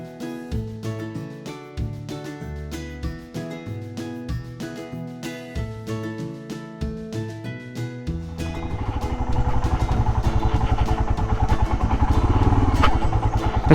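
A Royal Enfield Himalayan motorcycle is ridden, its engine coming in partway through as a steady, rising drone that grows louder toward the end, following a stretch of rhythmic music.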